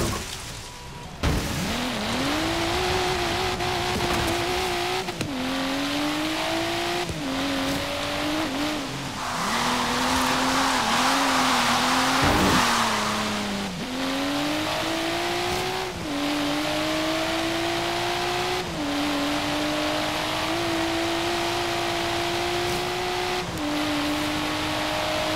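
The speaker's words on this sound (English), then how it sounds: "when that Subaru gets hooked up, man, that shit pulls" Subaru engine in Forza Horizon 3 pulls hard through the gears, a loud steady drone rising in pitch with each shift, with brief dips between gears and a burst of tire roar mid-run; no talking.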